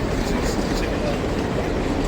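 Union Pacific Big Boy 4014 steam locomotive striding along with a steady, heavy rumble and broad rolling roar that holds constant and loud throughout the short stretch.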